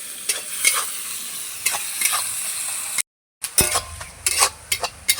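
Onions fry in a pan with a spatula stirring, giving a soft sizzle with repeated scrapes and clinks of utensil on metal, close and moderately loud, with a brief drop to silence midway.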